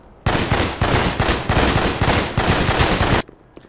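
Rapid automatic gunfire in a Garry's Mod roleplay game executes a prisoner, a loud sustained burst with a pulsing rhythm lasting about three seconds before stopping abruptly.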